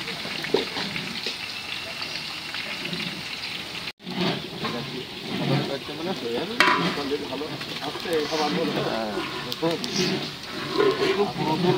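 A large pot of khichuri being stirred during wedding cooking makes repeated scraping and churning with a soft sizzle underneath. It is fairly close and continuous, with a brief break near the start and faint voices in the background.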